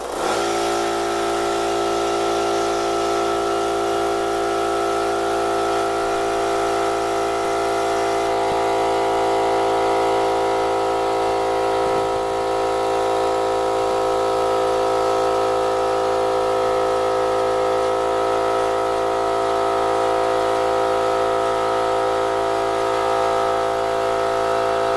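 A new oiled air compressor starts up for the first time and runs continuously at close range, a loud steady motor drone whose tone shifts slightly as it settles, with no speech over it.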